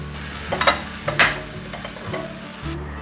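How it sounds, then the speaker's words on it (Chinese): King oyster mushrooms stir-fried in a pan after browning on both sides, a soft continuous sizzle broken by several brisk spatula scrapes and tosses close by, then quiet. "两面都煎成焦黄色了，我会再持续的翻炒一下，让所有味道融合。"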